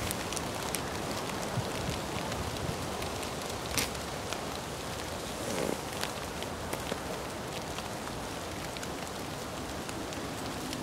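Rain patters on a plastic bag covering a camcorder outdoors on a windy day, a dense, even hiss scattered with small crisp taps throughout.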